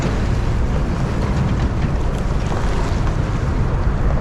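Wind blows by a river at high tide, a dense, steady rush of buffeting noise hitting the microphone for the full few seconds, with no voices.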